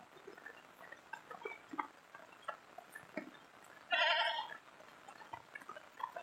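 A goat bleats once, loud and close for about a second, on a cold day in a rural Philippine province, with quieter outdoor background noise before and after.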